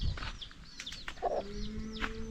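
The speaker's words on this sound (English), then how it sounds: "this is a chicken here" A chicken calls briefly and close by in a yard, mixed with short chirping bird calls and a faint low animal sound, with no talk.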